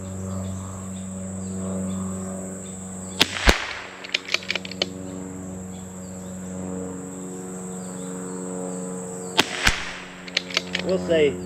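Two sharp rifle shots from Aguila Rifle Match .22 ammunition at an outdoor range, the first around three seconds in and the second near nine and a half seconds, each followed by a brief ringing tail over steady cricket chirping.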